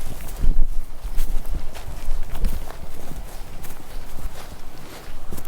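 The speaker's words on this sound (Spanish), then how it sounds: "El señor a caballo allá." A man riding a horse passes with irregular hoof clip-clops on the ground over a busy outdoor background, the hoofbeats fairly close and uneven.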